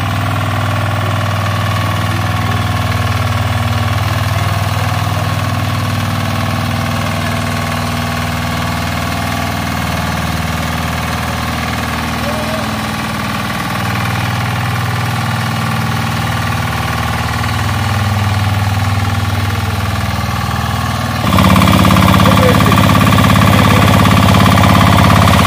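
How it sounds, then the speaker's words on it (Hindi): A 12 hp Kama diesel engine on a 4x4 power weeder runs steadily with a loud, knocking chug and vibration, holding a constant pace before the revs rise sharply near the end. "4-व्हील ड्राइव पावर वीडर जो की 12 हॉर्स पावर में है और डीजल इंजन में है"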